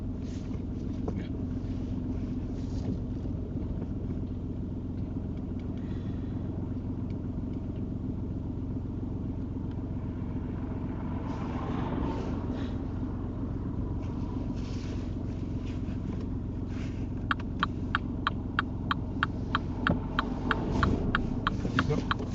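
A car idling then pulling away during a UK mock driving test, a steady low engine rumble heard from inside the cabin, with faint ticking near the end.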